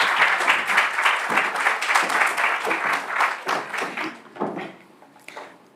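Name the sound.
audience applause for speaker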